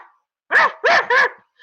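Three quick, loud dog barks in close succession, near and dry, with silence before and a fourth bark just starting at the end.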